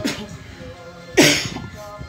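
Two sharp, harsh coughs, one at the start and a louder one about a second later, close to the listener.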